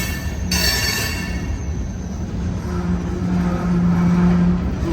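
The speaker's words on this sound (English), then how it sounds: "Ooh, that's a stuck brake." A train car with a stuck brake rolls out of a tunnel. Its steady rumble carries a sustained metallic squeal that swells louder toward the end, with a brief high hiss early on.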